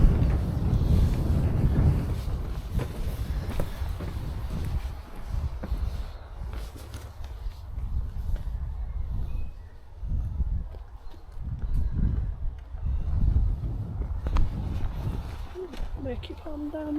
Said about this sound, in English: It is a bit breezy.